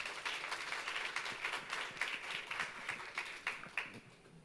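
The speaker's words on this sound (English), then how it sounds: "Please, another round of applause for him." An audience at a health innovation pitch competition claps steadily throughout, a dense, continuous round of applause with a few sharper individual claps standing out near the end.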